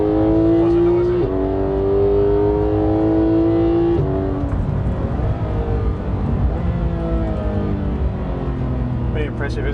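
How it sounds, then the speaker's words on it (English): Porsche 911 GT3 (991.2) with a 4-litre flat-six and dual-clutch gearbox pulls hard under acceleration, its pitch climbing through two or three upshifts. The sound is loud and continuous from inside the car, with some talk over it. "just the sound of that 4-litre flat 6 engine"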